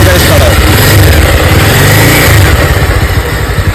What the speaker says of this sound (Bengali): গাড়িটা একটু স্টার্ট করে সাউন্ডটা একটু শোনান তো ভাই।